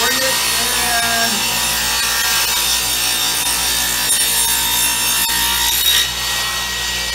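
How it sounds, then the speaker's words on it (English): A saw makes smaller cuts in wood in a home shop, a continuous loud close whine of cutting with no pauses and no talk. "now if I want to make these smaller cuts here, all I got to do is bring it and"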